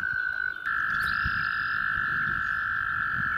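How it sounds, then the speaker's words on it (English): A long, steady high trill of breeding male American toads calling, one sustained call overlapping another, loud and close over faint background rumble. "The main attraction right now are the breeding American toads."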